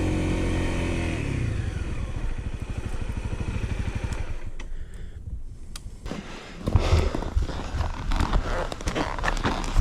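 Honda CRF250L motorcycle engine revving hard on a steep dusty hill, a steady throaty drone with rapid firing pulses that dips briefly, then surges back louder with sharp throttle blips near the end.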